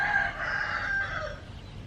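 A rooster in a Thailand nightlife video game crows once, clear and fairly close, a drawn-out call lasting about a second and a half that fades at the end, with no talk.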